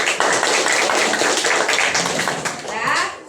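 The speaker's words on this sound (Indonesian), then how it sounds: "semua, tepuk tangan lagi." Pupils in a classroom clap together at length, a dense, loud patter of many hands that fades near the end, with children's voices underneath.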